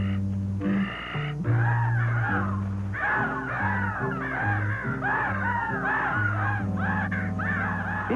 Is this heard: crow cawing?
yes